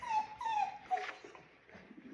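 A dog whimpers and yips in short high, pitch-sliding whines during play with a toy, close and fairly quiet, with several cries in quick succession.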